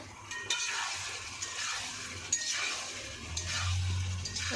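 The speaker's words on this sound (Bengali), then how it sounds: "ডিম দিয়ে আলু দিয়ে এটাকে ভালো করে কষিয়ে নিচ্ছি" Eggs and potatoes being stir-fried in a pan, a soft steady sizzle with repeated scraping stirs and a few light clinks of a utensil against metal, close by with no voices.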